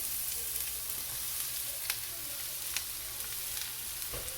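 Chopped cabbage goes into a pan where urad dal is frying light brown in oil, giving a steady, fairly quiet sizzle with a few soft clicks and stirring scrapes throughout.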